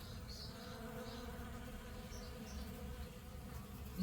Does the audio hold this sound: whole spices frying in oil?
no